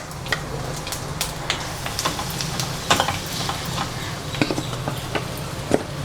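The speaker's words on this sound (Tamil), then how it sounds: "நம்ம இந்த மரவள்ளி கிழங்கு நம்ம பிணைஞ்சி வச்சுருக்கதை போட்டுக்கலாங்க" Mashed cassava goes into a pan of sizzling mustard seeds and urad dal, giving a steady loud frying hiss dotted with crackles and stirring scrapes.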